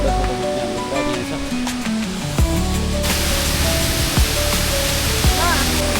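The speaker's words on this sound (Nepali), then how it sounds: "फाइनल्ली यो झरनाको फेदमा आइपुगेको छौँ हामी। वाउ नाइस झरना।" A waterfall at a park in Jinju, South Korea, gives a constant rushing roar that grows fuller and louder partway through, while people talk nearby.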